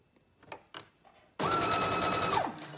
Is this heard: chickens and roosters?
no